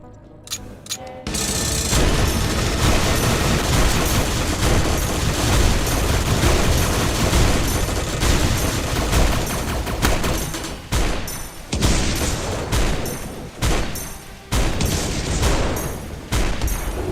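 Rapid, sustained gunfire from the player's gun in a Terraria Infernum mod boss fight, dense and loud with bursts of booming impacts, briefly dropping out in short gaps.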